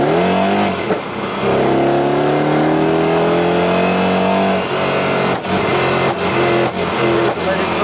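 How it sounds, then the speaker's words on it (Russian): Naturally aspirated sports car engine revving hard through its exhaust, loud and close, with rising and falling pitch sweeps and a few sharp pops; people talk over it. "Такой породистый атмосферник. Как будто стреляет сзади."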